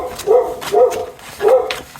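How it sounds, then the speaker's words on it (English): A dog barks three times in steady succession, loud and close indoors, with short gaps between the woofs and no talking. "Pausing for the dog."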